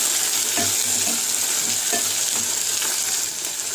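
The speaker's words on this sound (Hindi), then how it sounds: "अब इसको तकरीबन लो फ्लेम पे 5 मिनट के लिए अच्छी तरह से भून लीजिए।" Cluster beans roasting in a pan over a low flame give off a steady close sizzle, with soft repeated stirring scrapes every half second or so and no voices.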